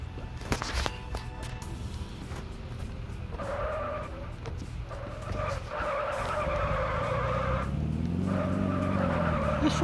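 Car engine droning in a video game with loud tire squeals and skidding, the engine pitch rising and falling as the car accelerates, continuous and close throughout.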